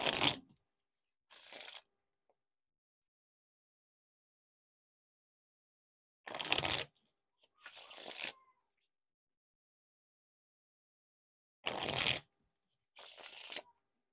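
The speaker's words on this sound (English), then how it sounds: "Now onto the riffle shuffle or bridge shuffle." Theory11 5th & Laurel playing cards riffle shuffled in three separate rounds, each a quick burst of fluttering, snapping card edges followed by a shorter bridge rattle, close and crisp against silence.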